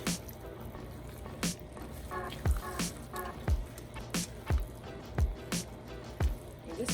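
Cream corn is stirred in a pot, giving soft wet squishes and spoon knocks at an irregular rhythm of about one per second, close and moderate, over a faint background hum.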